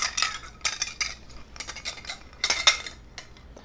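A julep strainer strains a cold brew old fashioned cocktail into a rocks glass over a single ice cube, giving a series of close metallic clinks and scrapes against the glass, with no talking.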